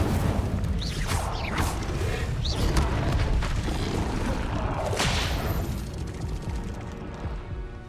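Incendio fire spell cast in the Hogwarts Legacy video game on PC, several booming, whooshing bursts over a dense, continuous game soundscape, loud and close, with no voices.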